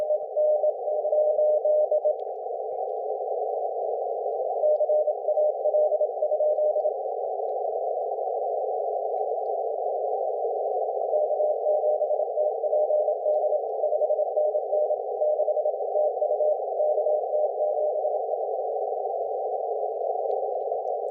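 Morse code picked up on an amateur HF radio during the IARU HF World Championship: faint keyed CW tones bursting in and out of a steady, narrow band of receiver hiss, continuing without pause.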